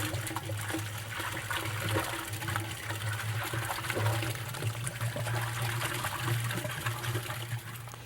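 City water pressure pushes through hoses into an HVAC flush cart reservoir, giving a steady rushing, splashing fill with a constant low hum underneath, close and even throughout.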